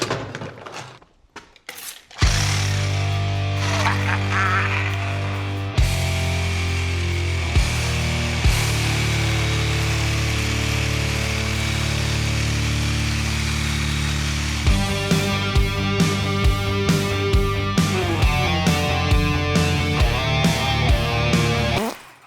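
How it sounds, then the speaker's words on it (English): A reciprocating saw cuts through scrap in a workshop, its loud buzzing motor running for long stretches with brief stops and restarts, then giving rattling, choppy bursts near the end. "go absolutely crazy with the reciprocating saw"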